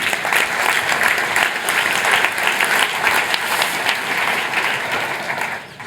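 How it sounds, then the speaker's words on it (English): A large conference audience applauds steadily and loudly for several seconds, a dense continuous clapping that fades slightly at the end. "Give them a round of applause."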